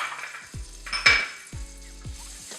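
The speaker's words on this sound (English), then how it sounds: "We have some butter that we're putting in the pan." Butter and brown sugar sizzling with drained pineapple tidbits and rings in a pan, a steady soft fry punctuated by a few close clinks of a utensil against the pan.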